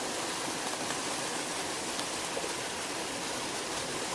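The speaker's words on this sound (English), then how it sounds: "there's a lot of water running down there" Water rushing beneath a thick ice field about ten feet down near a waterfall, a steady broadband roar and hiss, constant and unbroken, fairly distant and muffled.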